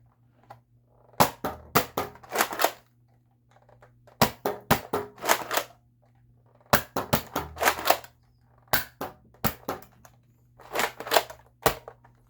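Nerf dart blasters fire in short bursts of sharp, dry snapping clicks, several rapid shots per group with quiet pauses between, close by and without talk.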